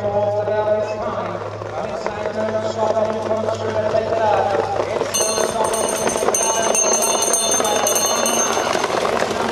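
A bell rung for the final lap at a novice harness race, clanging repeatedly in a fast ringing rhythm over a race commentator's continuous talk and crowd noise.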